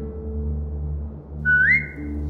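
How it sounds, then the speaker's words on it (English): A rising whistle from a player character in The Walking Dead video game, a single clear upward-sweeping tone held for about half a second over a steady low game background hum. "Now whistle and tell her to lie down."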